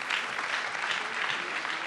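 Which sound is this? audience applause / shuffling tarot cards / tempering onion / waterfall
audience applause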